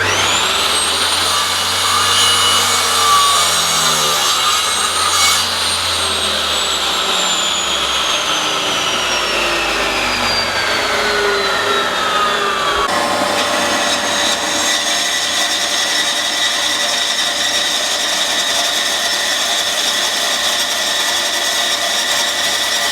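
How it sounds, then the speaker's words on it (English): A chop saw cuts a wooden dowel to length in a small workshop, a loud whining blade note falling in pitch as it bites into the wood, then a steady motor drone continues after the cut. "So I'm just going to chop saw this down to the right length first"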